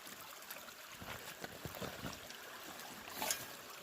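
A small side creek at a placer gold deposit trickles and babbles over rocks in a soft, steady flow, quiet and close.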